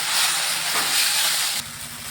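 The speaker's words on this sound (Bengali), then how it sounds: "ভালোভাবে একটু ভাজা ভাজা করে নিচ্ছি।" Potato and tomato frying in a pan with cumin powder and sambar masala sizzle loudly and continuously, with a brief stirring scrape and a sudden drop in the hiss near the end.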